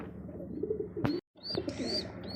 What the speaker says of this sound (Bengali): এখানে আরও একজোড়া রেসার কবুতর আর একটা বেবি সহকারে